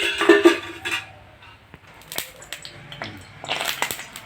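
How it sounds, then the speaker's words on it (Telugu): Three eggs are cracked into hot oil in a kitchen: a scattered series of sharp taps, clinks and cracks against cookware, close and fairly loud, with quieter gaps between the hits and no talking. "ముందుగా వేడైన ఆయిల్లో ఈ 3 ఎగ్స్ని కొట్టి వేసేసుకోవాలి."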